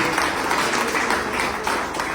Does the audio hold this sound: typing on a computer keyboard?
no